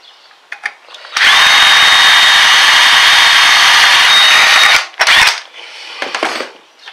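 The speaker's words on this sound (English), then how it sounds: "Drill our last hole." A power drill bores a hole through a center hub cap on a Ford Expedition, a loud steady high whine for several seconds, a brief second burst after it, then light clicks and handling noises, close by.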